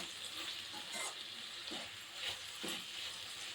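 Onion and tomato with garlic paste sauté in a pan for a Tamil ridge gourd kadaiyal, giving a soft, continuous sizzle with a few faint stirring scrapes, quiet and close, no talking.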